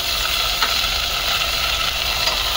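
Bell pepper and snake gourd pieces sizzle in a hot pan, a loud, steady, dense frying hiss with a few faint stirring clicks, no voices.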